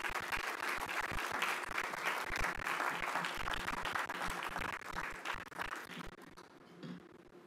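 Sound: audience applause for panelists

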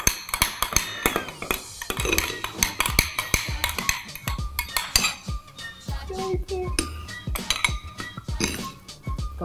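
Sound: stirring slime mixture in a bowl

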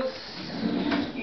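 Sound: kitchen drawer being opened or closed

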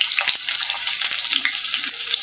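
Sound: onions frying in oil in a wok

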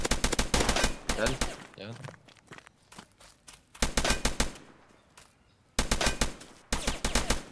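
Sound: gunfire in a video game

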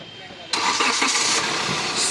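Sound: Hyundai Creta 1.4 2016 engine starting

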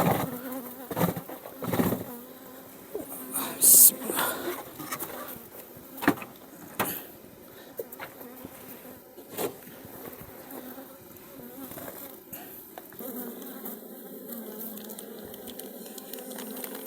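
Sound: honeybees buzzing at an open hive during inspection

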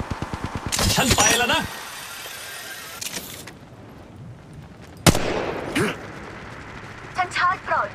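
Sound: gunfire in the video game Apex Legends Mobile

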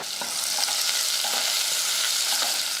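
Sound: small onions sautéing in oil with mustard seeds

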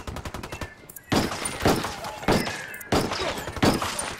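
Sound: gunfire in video game Ghost Recon Wildlands

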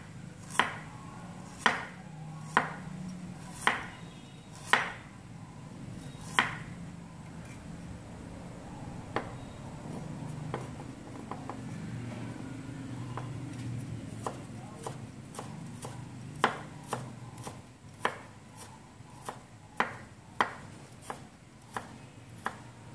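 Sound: knife slicing ginger into thin strips

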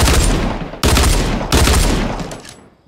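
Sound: dual pistols firing in the video game Fortnite

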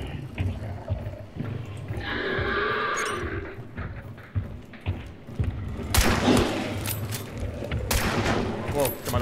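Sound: gunfire from the video game Hunt: Showdown

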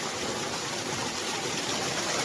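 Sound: waterfall

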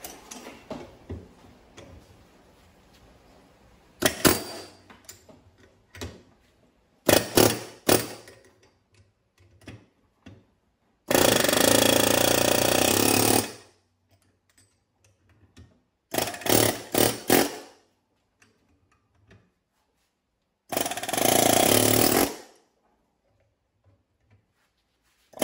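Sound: chisel working on Nissan Versa front wheel bearing

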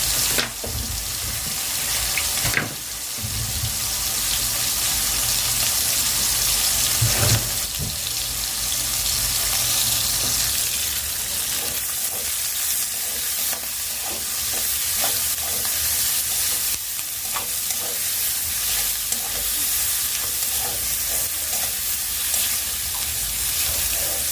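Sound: onions frying until reddish brown

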